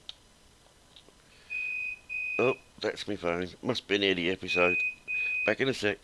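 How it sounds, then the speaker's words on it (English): A phone gives two pairs of steady electronic beeps, the first alone and the second under a voice as he talks. "Oh, that's my phone."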